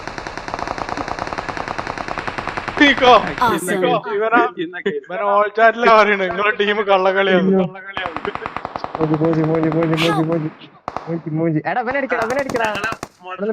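Rapid automatic gunfire from the battle royale video game BGMI, played in an Ext match on the Livik map, with long bursts and separate single shots under loud, excited voices of players talking over team voice chat.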